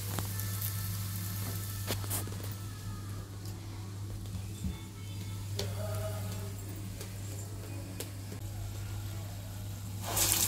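Vada dropped into hot oil over a medium flame gives a soft, steady sizzle that stays fairly quiet throughout, with a constant low hum underneath and a few faint clicks.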